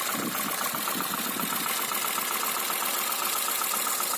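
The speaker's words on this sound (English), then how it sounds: "even though the engine sounds funny" A car engine idles steadily up close, its running uneven with a faint knocking, rough beat beneath a continuous mechanical drone.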